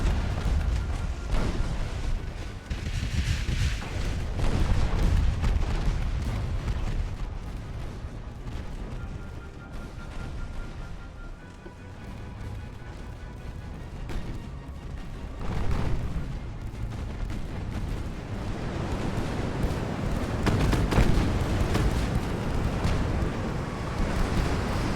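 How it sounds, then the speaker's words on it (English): Naval artillery shelling in Ultimate Admiral: Dreadnoughts, an 1890s hulls-only battle: repeated booming gun salvos and rumbling blasts rolling continuously over a low ambient sea-battle drone. "Currently, we're just shelling him with whatever we have available."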